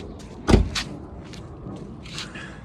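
A Chevrolet Avalanche truck door swings shut with one close, solid thud, followed by faint rattles and rustling in a quiet garage.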